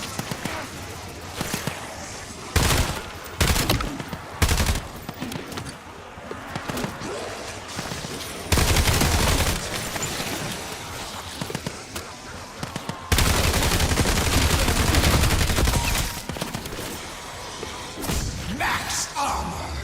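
Point turret firing in the video game Astra Malorum, rapid bursts of loud gunfire repeating across the stretch with short gaps between volleys, mixed with game effects and some voice.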